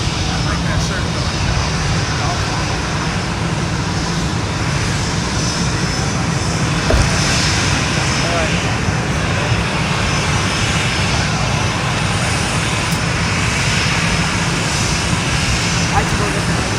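A private plane flies overhead at Fort Lauderdale airport, its engine a continuous loud broadband roar that holds steady throughout, with people talking nearby.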